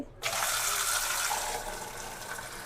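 Water pours from a tap into a pot holding eggs for boiling, a loud continuous rushing splash that starts abruptly and keeps running steadily to the end.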